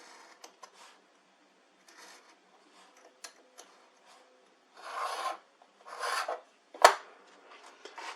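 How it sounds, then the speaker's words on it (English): A blade slices an angled piece off the edge of a paper patch, lined up with a 3D-printed tool. It sounds as a few faint, short rasping cuts that grow a little louder near the end, with quiet pauses between them. "Line up the top and slice that little angled piece off the edge."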